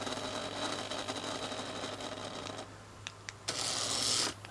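The flywheel of a Hexbug Robot Wars Matilda toy robot spins with a faint, steady mechanical whir. Near the end it rises into a brief, louder, higher-pitched buzzing burst.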